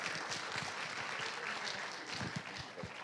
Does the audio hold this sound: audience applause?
yes